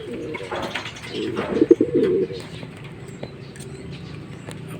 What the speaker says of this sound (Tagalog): pag natapos itong kumain, pakakainin ko naman si Liit